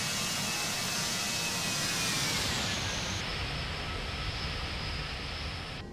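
Airbus A321 jet airliner in the X-Plane 11 flight simulator makes a low flyby, a loud steady roar of engine noise with a gradually falling whine that holds throughout, no voices.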